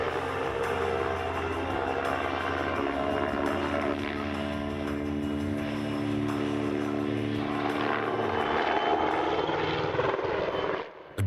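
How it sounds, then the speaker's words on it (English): A PZL W-3 Sokol helicopter departs at the Pardubice airshow in poor weather, its loud, steady rotor thrum and turbine whine holding close and continuous throughout before cutting off abruptly at the very end. "se vrtulník vzdálí za několik okamžiků takzvanou couvačkou"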